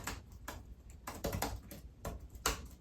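Fingers type on a computer keyboard, a close series of uneven key clicks and taps coming in short bursts with brief pauses.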